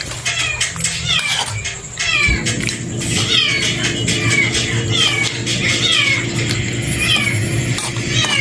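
A cat meowing repeatedly, several clear drawn-out meows spaced through the clip over a steady background hum, close and fairly loud.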